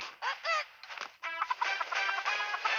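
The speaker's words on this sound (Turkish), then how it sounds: "Gıdaklayan tavuk." A clucking chicken emote in the mobile game PUBG Mobile: a short run of squawky clucks and bawks, close and fairly quiet, with no talk.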